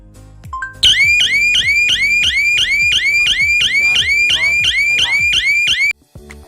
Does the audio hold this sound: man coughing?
no